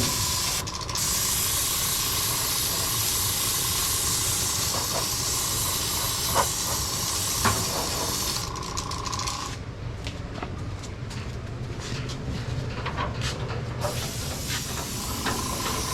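Airbrush spraying paint during touch-up work on a 1972 Dodge Challenger restoration, a steady close hiss running continuously without talk, briefly thinning and sputtering partway through before resuming.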